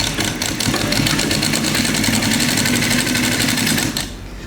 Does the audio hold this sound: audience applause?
no